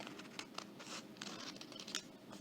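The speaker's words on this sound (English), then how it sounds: "I'm going to cut this part out." Paper being cut with scissors while making a cone shape for a craft, a close, steady run of crisp snipping and rustling strokes across the whole stretch with no talk.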